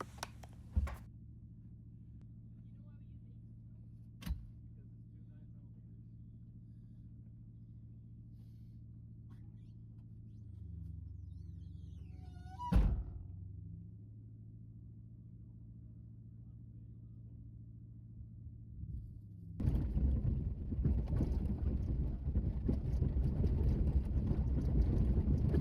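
An off-road vehicle on a dirt trail, its engine a low steady rumble with occasional knocks and clunks, swelling into louder, rougher driving noise and wind toward the end.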